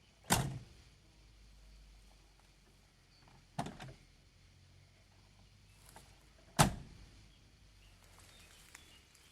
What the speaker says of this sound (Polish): chromowane klamki, masywne drzwi i przede wszystkim ten dźwięk, który nie znikł po ponad 40 latach.